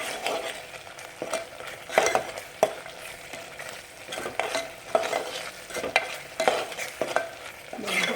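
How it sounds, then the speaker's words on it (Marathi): Masala spice paste sizzles steadily in hot oil in a home kitchen pan, with repeated spoon scrapes and stirring strokes cutting through the frying hiss at close range, no voices present. "तेल छान सुटूपर्यंत आपण हा मसाला एक मिनिटभर छान परतून घेऊया तेलात"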